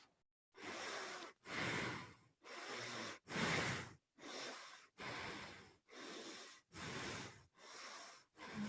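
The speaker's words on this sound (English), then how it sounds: "Breathing deeply into through your nose." Nine deep, forceful breaths through the nose in steady succession during a bioenergetic exercise, each a loud rushing draw of air lasting about half a second with short silent gaps between, close and alone without talk.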